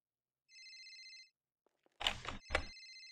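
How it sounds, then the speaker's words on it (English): Mobile phone ringing in GTA V, a clear electronic two-tone ring in one short burst, then a couple of soft clicks and two quick thumps, in-game, with no voices. "Got a phone call."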